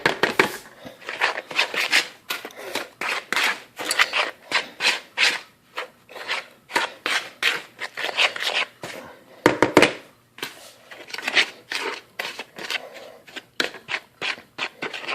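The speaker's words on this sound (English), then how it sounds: "But the same thing, mix it around." Flour dough for Guyanese bake worked by hand in a bowl, giving repeated close rubbing, rasping strokes in an uneven rhythm with short pauses, no talking.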